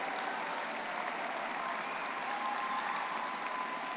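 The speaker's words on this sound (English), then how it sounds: "Everyone give these young people a round of applause" Audience applause at a university commencement ceremony, a continuous wash of many hands clapping at a distance, fairly faint and even throughout with no voices.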